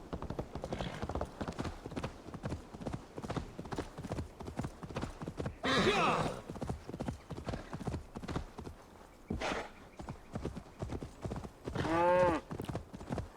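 Horse hooves gallop in a steady clip-clop rhythm while riding in the video game Assassin's Creed Valhalla, with a couple of brief whinnies and bursts over continuous game ambience.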